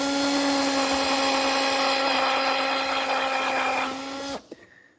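A power drill bores screw pilot holes through wood for a serving tray, giving a steady, high whine for about four seconds. Then the motor cuts off and spins down, and a couple of faint clicks follow.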